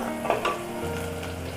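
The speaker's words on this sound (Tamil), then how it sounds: "வெங்காயம் நல்லா வதங்கட்டும்." Big and small onions sautéing in a pan for a spicy bean-nut curry, with a steady close sizzle and a few stirring scrapes near the start, alone without voices.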